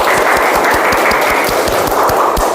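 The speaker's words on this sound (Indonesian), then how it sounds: "Ya, tepuk tangan semuanya." A class of children claps together in fast, uneven rhythmic bursts, loud and close, with a noisy room wash behind the clapping.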